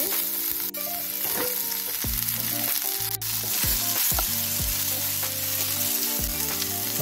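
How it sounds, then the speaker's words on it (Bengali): Sliced starfruit hitting hot oil already crackling with mustard seeds and dried red chillies, a loud, steady sizzle with sharp popping bursts and occasional stirring throughout, no voices. "সর্ষে আর শুকনো লঙ্কা দিলাম তেলে। এরপরে কামরাঙাগুলো দিয়ে দিচ্ছি।"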